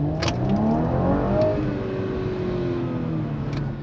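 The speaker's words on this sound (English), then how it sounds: "you can hear the engine now starts to purr. The exhaust is a little bit more rumblier, a bit more burble, grumble" A 2017 Audi S5 engine and exhaust burble in dynamic mode, a steady low rumbling idle with slight swells in revs, close and continuous with no talking over it.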